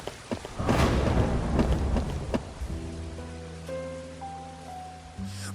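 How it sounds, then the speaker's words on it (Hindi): Heavy rain pours steadily with a burst of thunder-like rumble near the start, followed by sustained low tones and a sudden shift near the end, an eerie backdrop for a haunted-house horror scene. "बारिश की ठंडी बूंदें उसके चेहरे पर पड़ती हैं।"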